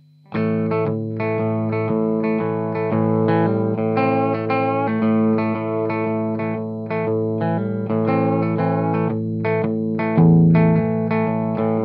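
A distorted electric guitar strums open, sustained chords that ring into each other without palm muting, loud and continuous.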